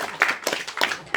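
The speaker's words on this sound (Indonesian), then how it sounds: "Boleh tepuk tangan dulu." Audience members at a farmer group education event clap in a brief, loose burst of scattered hand claps, close and moderately loud, with no clear speech.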